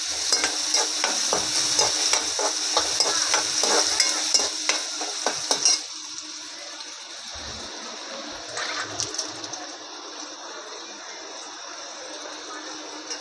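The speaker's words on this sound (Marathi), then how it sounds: "चांगला सोनेरी कलरवरती येईपर्यंत कांदा भाजायचा आहे." Onion sizzles in slightly burnt butter in a pan while a spoon scrapes and stirs it in quick repeated strokes. After about six seconds the stirring stops and a softer, steady frying hiss carries on alone.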